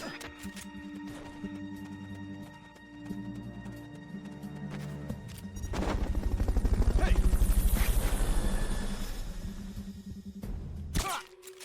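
Helicopter in the video game Metal Gear Solid: Peace Walker during a Fulton recovery, a steady rotor thrum and engine drone that swells loudly in the middle then fades, with game music and effects layered over it.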